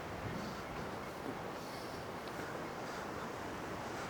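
Steady wind buffets and rushes without pause at Wildwood, a broad constant roar that swamps everything else.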